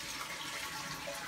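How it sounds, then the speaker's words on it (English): A toilet flushing to empty its tank before the flapper is replaced: a steady, close rush of draining water fills the whole moment, with no one talking. "You want to flush this and get all the water out of the inside."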